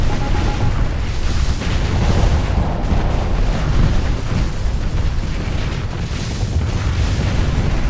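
A detonating weapon exploding in a space video game, a loud, sustained rumbling boom with crackling bursts rolling on for several seconds, heavy and close, no talking.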